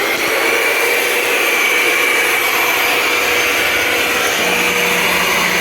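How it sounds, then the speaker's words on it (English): A Rug Doctor rental carpet cleaning machine runs continuously while spraying solution and scrubbing, a loud, steady motor whine and suction hiss close to the microphone, unchanging throughout with no talk. "So you can hear when you're hitting the button, the scrubbing mechanism doing its thing."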